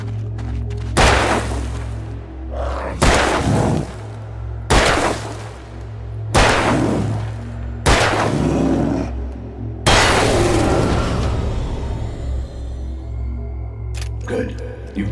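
Several loud, sharp gunshots ring out in the Alan Wake video game at irregular intervals over a low droning backdrop, the last shot trailing off with shattering debris.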